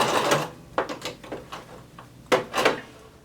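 Short bursts of a domestic sewing machine back stitching a seam on a gathered maxi skirt, stopping and restarting in quick mechanical runs with brief pauses between, close and clear with no talk.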